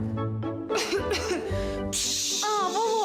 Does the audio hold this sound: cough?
yes